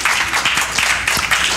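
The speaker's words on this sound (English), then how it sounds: "Give the Lord a hand clap of praise." Church congregation clapping hands in praise, a dense, steady patter of many hands close by with a few louder individual claps standing out, no talk over it.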